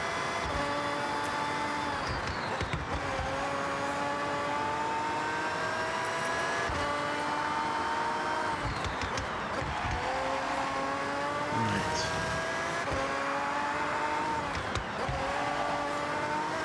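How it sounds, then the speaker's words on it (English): Mazda race car engine in the video game Forza Horizon 6, a loud sustained whine that climbs in pitch through each gear and drops at shifts, with brief tire noise mid-run. "Oh, the goddamn Mazda again."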